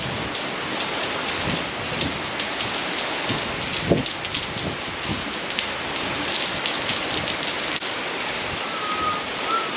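Heavy rain pours steadily, a dense, continuous hiss of drops drumming on surfaces, loud and close throughout with no voices.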